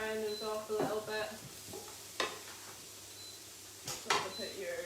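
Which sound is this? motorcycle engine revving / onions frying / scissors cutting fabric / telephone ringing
onions frying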